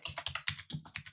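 Keys on a computer keyboard are tapped in a quick, even rhythm, about ten crisp clicks in just over a second, close and quiet with no talk.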